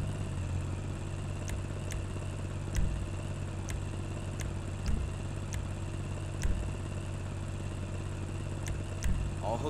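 Manchez Scout motorcycle from GTA 5 idles with a steady low exhaust rumble, punctuated by a few brief clicks and soft revs at irregular intervals.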